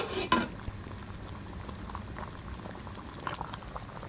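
Gravy with besan tikki bubbling in a covered pan, a faint, steady simmer with soft popping and one brief clink near the start.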